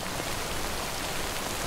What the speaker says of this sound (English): we're in a muddy area and it's raining